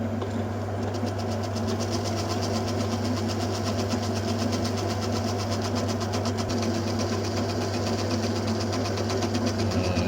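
A lathe skims the commutator of a BTH CA 4750 starter motor in a workshop, giving a steady, even machine hum with a faint rattling buzz that runs unbroken for the whole stretch, with no talking.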